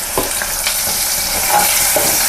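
Garlic and spices frying in a hot pan for Telugu pappu charu, a steady loud sizzle with faint stirring scrapes and pops throughout, no voice.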